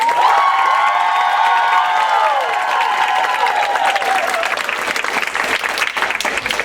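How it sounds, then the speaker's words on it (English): A large cabaret audience applauds loudly and steadily, the clapping dense and continuous with a few scattered cheers. "Can we have a round of applause for Griffin, everybody?"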